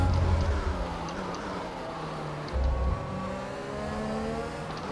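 An F1 race car engine in the F1 2021 video game, running without its turbo, drones steadily and loudly with a brief rise in revs midway, with no voices over it.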